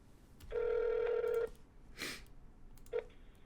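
A phone call rings out from a handset or Skype: a steady electronic ringback tone sounds for about a second, then a brief noise, then a short second tone begins, all fairly close and with no talking.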